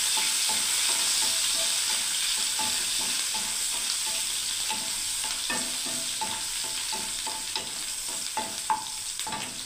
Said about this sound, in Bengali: পেঁয়াজটাকে ভেজে দিচ্ছি বন্ধুরা